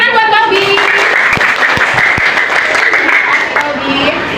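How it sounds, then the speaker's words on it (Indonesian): A classroom of students claps for a classmate during a lesson, with a short burst of scattered claps under ongoing loud talk and voices. "Tepuk tangan buat Kolbi"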